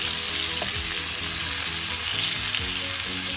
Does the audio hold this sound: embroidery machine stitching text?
no